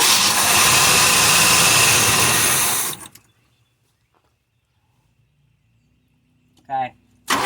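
A car engine, either a Monte Carlo or a Ford truck, runs loud and steady for about three seconds, then cuts to near silence, with a brief voice and noise at the end.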